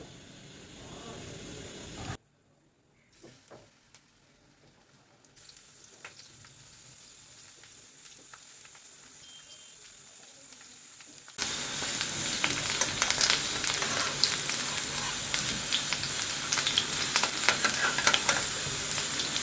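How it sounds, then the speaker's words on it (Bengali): Onion fritters (peyaji) shallow frying in a pan of oil, a steady close sizzle that is faint at first, drops out briefly, then swells into a loud, dense crackling hiss for the second half. "একেবারে ডুবো তেলে ভাজবো না, মানে এমনি শ্যালো ফ্রাই করব।"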